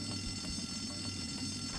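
A fire alarm pulled in the Bully video game sounds as a loud, continuous ringing that fills the whole stretch with a steady, buzzing, bell-like tone.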